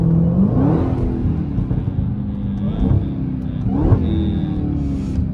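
A Dodge Hellcat engine rumbles close up from inside the car on a wet road at night, with pitch swooping up and down through several quick revs as it downshifts.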